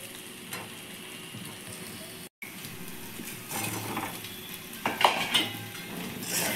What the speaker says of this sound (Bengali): এই সময় আমি ভেজে রাখা আলুগুলো দিয়ে দিচ্ছি